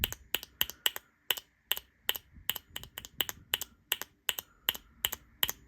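A metal fidget toy makes rapid sharp metallic clicks in an uneven rhythm, close and crisp, some with a faint bright ring trailing after.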